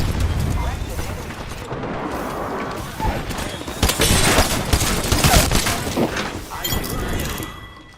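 Video game Apex Legends firefight with dense, continuous gunfire, rattling bursts and impacts at high intensity, while a player talks over the shooting.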